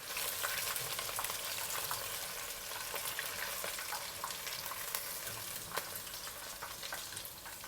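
Chicken pieces crisping in hot oil in a wok for Mongolian chicken, a dense, continuous crackling fry with sharp pops throughout, close and fairly loud with no voices.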